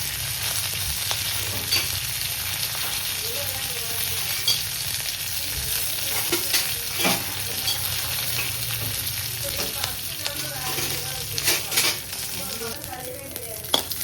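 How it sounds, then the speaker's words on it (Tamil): Curry leaves sauté in hot oil for bread samosa filling, giving a loud, dense crackling hiss throughout with scattered spatters and occasional stirring scrapes close by. "நல்லா பொரிஞ்சிட்ட பிறகு கருவேப்பிலை போட்டுக்கோங்க. நல்லா வதக்கணும்."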